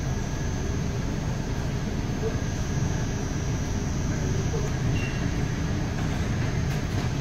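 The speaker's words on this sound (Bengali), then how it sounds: "ভীষণ সুন্দর একটা সকালের ট্রেন ধীরে ধীরে মালদা টাউন স্টেশন ছেড়ে বেরিয়ে যাচ্ছে।" A morning train pulls slowly out of Malda Town station, a steady low rumble and drone with faint whine above, continuous and moderately loud, no distinct voices.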